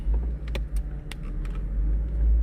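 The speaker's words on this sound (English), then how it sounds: "Car's in gear. Accelerate slow." A car in gear pulling away slowly, its engine a steady low rumble close by, with a few light clicks and rattles over it; the car has a clunking noise when accelerating.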